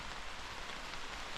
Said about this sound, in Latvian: Un lietus arī ir atnācis.